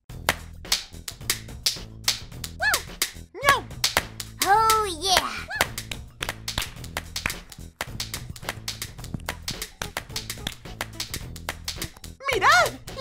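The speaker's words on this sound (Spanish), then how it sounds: "Yo doy una palmada con un ritmo y me tenéis que contestar con otro ritmo." Rhythmic hand clapping from a call-and-response clapping game, with sharp claps in short patterned bursts over steady background music, and children's voices and cheers breaking in between.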